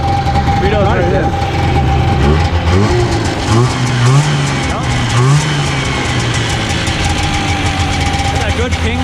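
A Suzuki four-stroke engine revs and rises in pitch, with a metallic ping running through it, loud and close, while someone talks over the engine.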